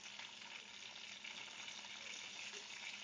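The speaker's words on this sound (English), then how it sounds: "You can hear it sizzling in there. Because of the frosting of the fish. It's making the oil sizzle." Fish sizzles and fries in hot oil, a steady, dense crackling hiss that stays even and continuous, heard close but at low volume with no talking.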